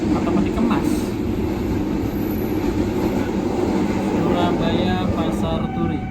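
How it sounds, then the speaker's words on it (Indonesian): A cargo container train rolls past with a steady, loud rumble of wagons that holds the whole way through, and a faint screech of wheels rises now and then above the din. "Mau sampai bertemu dengan kereta kargo atau peti kemas."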